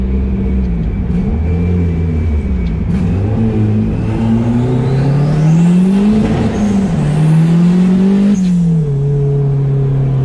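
Turbocharged Mazda Miata engine on its first drive, loud and close, revving up and down repeatedly with rising and falling pitch sweeps and a whooshing boost whine over a deep rumble, no talk.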